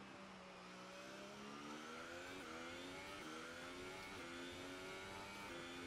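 Formula 1 race car accelerating in F1 2018 during multiplayer qualifying at Singapore, a loud continuous engine whine climbing through the gears in repeated rising sweeps with brief dips at each shift.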